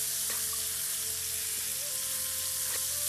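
Nasi goreng ingredients fry and brown in a pan with a steady, fairly soft sizzle, broken by a couple of light utensil scrapes; nobody speaks.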